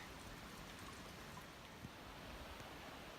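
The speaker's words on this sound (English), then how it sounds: "Hopefully everything's not too wet, as it is raining a bit." Light rain falls steadily, a soft continuous patter with no other sounds standing out.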